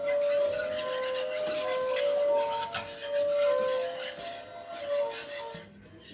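A spoon or whisk rubs and scrapes against a glass bowl in steady rhythmic strokes while chocolate pudding mixture with cornflour is stirred. The sound is faint, with occasional light clinks.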